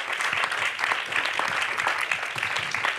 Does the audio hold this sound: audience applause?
yes